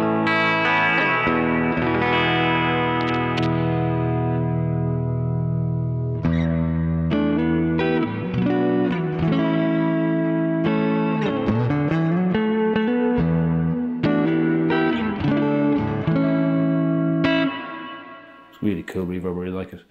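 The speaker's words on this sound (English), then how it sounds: "Really cool reverb, I really like it. Like, it's not over the top, it's on the church setting" An electric guitar plays sustained chords and single notes through a reverb pedal set to a church-like space, with long, lush tails washing behind each note and a brief tail-off near the end.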